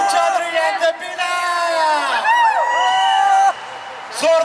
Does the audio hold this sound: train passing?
no